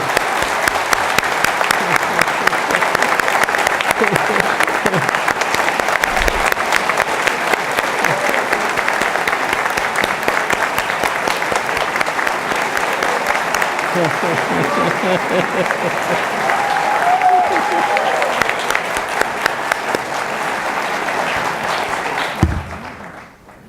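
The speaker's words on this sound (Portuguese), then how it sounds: "Queria uma salva de palmas do Padre Davi." A long, loud round of applause at a church Eucarist celebrating a university's 78th anniversary, steady dense clapping from a large congregation that holds for over twenty seconds before cutting off abruptly.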